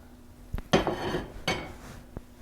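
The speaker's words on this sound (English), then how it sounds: "I'm just going to stir these meatballs in this sauce" A utensil knocks against a pan while meatballs are stirred through sauce, giving a few sharp metallic clinks and scrapes followed by a softer wet slosh, close up, with no talking.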